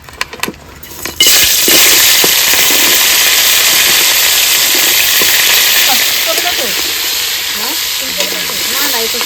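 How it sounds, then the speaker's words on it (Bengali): Crabs dropped into hot mustard oil in a heated wok burst into a loud, sustained sizzle that holds steady for several seconds, close and dominant, with faint voices in the background. "কড়াই গরম হয়ে গেছে সর্ষের তেল দিয়ে দেবো কাঁকড়া মাছগুলো ভেজে নেবো"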